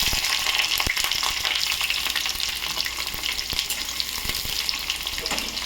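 Onion and chili frying in hot oil, a loud steady sizzle with occasional scraping stirs and small pops, no voices.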